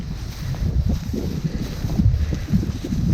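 Strong southeast wind on a clear, sunny late morning outdoors during a bow hunt for whitetail deer in Iowa, a steady loud rumbling buffet against the microphone with gusts swelling and easing throughout, no voices.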